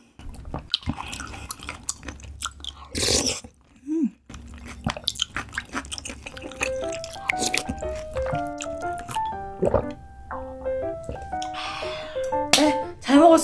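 Close, wet chewing and smacking of raw beef yukhwe mixed with sea urchin, with squishy bites, clicks and slurps in an irregular rhythm, alongside a short vocal exclamation and some brief chatter.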